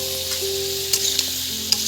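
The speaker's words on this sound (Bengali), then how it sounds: "হলুদ দিয়ে এবার কিন্তু নাড়াচাড়া করবো বন্ধুরা" Bitter gourd fries with turmeric in a pan, a steady sizzle under a low hum, punctuated by a few sharp spatula scrapes and taps while being stirred.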